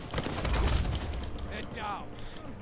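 Gunfire in the Uncharted 4 video game, a dense burst of shots crackling up close early on and easing into scattered reports, with game sounds under a loud, continuous mix.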